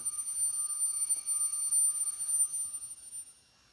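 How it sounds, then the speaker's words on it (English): A Jaeger-LeCoultre Master Control Memovox Timer watch alarm rings with a faint, thin, high-pitched metallic buzz that holds steady for about three seconds, then cuts out. "it's not a super loud alarm"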